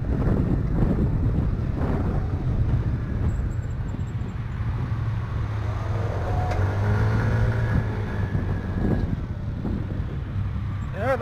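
A 2017 Kuba Fighter 50cc scooter, bored out beyond 50cc, rides along a road: a steady, close engine drone buried in constant wind buffeting, with a faint rising whine partway through.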